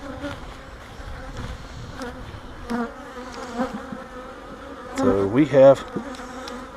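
Honeybees buzzing around a hive, a steady close hum of many insects with individual bees droning louder as they pass near, and brief handling noises mixed in.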